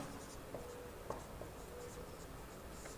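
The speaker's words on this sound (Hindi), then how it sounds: "यहाँ पे यहाँ लिख देते हैं हम" Faint scratching strokes of writing on a board during a geography lesson, soft irregular taps and scrapes under a hiss of room noise.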